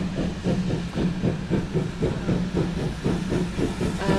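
A steam train pulls into Bitton station at the end of the day, with rhythmic chuffing exhaust beats, hissing steam and rail clatter, close and steady throughout, with no voices over it.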